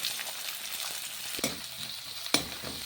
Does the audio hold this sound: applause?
no